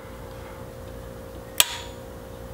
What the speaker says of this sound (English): this is an automatic center punch